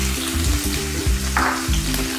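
Onions and cumin frying in oil over medium heat, a continuous close sizzle with bubbling crackle and a brief brighter hiss in the middle, no voices.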